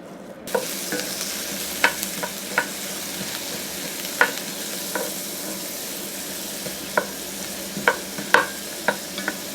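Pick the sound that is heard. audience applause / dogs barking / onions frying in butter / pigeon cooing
onions frying in butter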